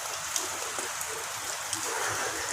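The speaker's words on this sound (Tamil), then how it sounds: "அதாவது ஒரு கிளாஸில் தண்ணி எடுத்து ஊற்றிக்கலாம்." Water poured from a glass into a pot of chicken biryani, a soft continuous splashing trickle with a few small drip-like taps, fairly quiet and with no talking.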